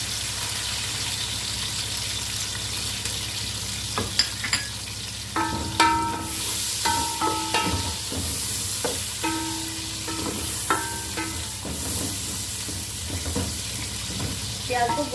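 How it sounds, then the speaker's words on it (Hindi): Onions fry in about half a cup of oil with cumin seeds in a pan, a steady sizzle running throughout while metal clinks and stirring knocks land intermittently in the middle, close and moderately loud, with no talking. "प्याज को गोल्डन ब्राउन होने तक पका लेंगे"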